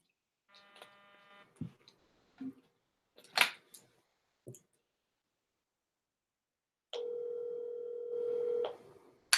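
Phone being used to dial a call-in number: a few quiet tones and handling clicks, then a steady, fairly loud ringback tone that holds for about two seconds.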